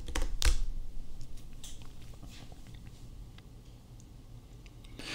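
Typing on a computer keyboard at a terminal for a MERN stack web project, with faint scattered key clicks and taps, close and quiet, a louder tap near the start, no speech.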